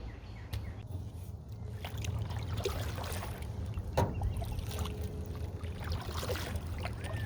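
A canoe is paddled on Meredith Creek, with soft watery swishes, drips and trickles, occasional wooden knocks against the hull and a low background rumble, close and fairly quiet with no talking.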